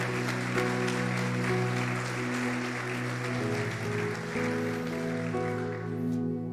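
A church congregation claps steadily over sustained organ-like music chords, the applause a continuous patter that carries on at even volume throughout.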